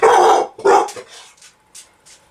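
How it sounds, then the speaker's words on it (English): A dog barks twice loudly and close by, followed by a few softer yips and whines trailing off. "That's my dog."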